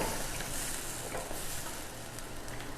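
Garlic and onion fry in a pan for sambar with a steady, close hiss of sizzling oil and faint stirring, with no voices.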